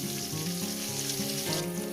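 Pointed gourd (potol) sizzles steadily in hot oil, a continuous close crackling hiss with no voices.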